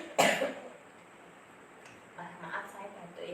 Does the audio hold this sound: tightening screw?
no